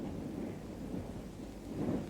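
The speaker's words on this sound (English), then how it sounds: "I think we're going to have a little rain." Rolling thunder with steady rain on an evening in a period home, a continuous low rumble swelling loudest near the end, close and enveloping, with no voices.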